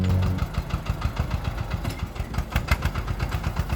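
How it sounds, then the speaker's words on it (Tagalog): A 4x4 kuliglig hand tractor engine chugs with a quick, rhythmic knocking idle, briefly rising under a light throttle blip before settling back to its steady putter, close and fairly loud. "konting pitik lang ng silinyador"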